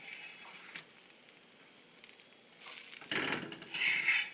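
Aloo paratha sizzles steadily on a hot pan, a soft broadband hiss that swells louder toward the end, with no talking.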